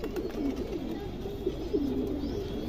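A khaki pigeon coos close by in a series of soft, repeated, rolling coos over a low steady background hum.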